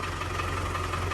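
Engine of a 1965 Triumph Spitfire just restarted after a fuel pump wire fault, idling steadily with an even low throb and slight knocking, moderately loud with no talk.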